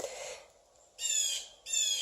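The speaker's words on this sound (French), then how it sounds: "Je suis au cœur de l'oiseau qui crie." A bird cries out in a forest with two loud, harsh, drawn-out calls in quick succession, following a fainter sound at the start, with a quiet outdoor background.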